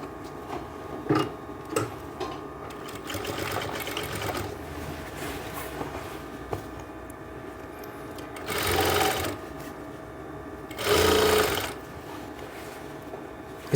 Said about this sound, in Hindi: आधा इंच की दूरी से सिलाई की शुरुआत करो